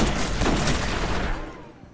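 Blind fire from a gun in the Destiny video game, a loud close burst of rapid shots that rings out and then fades over about a second.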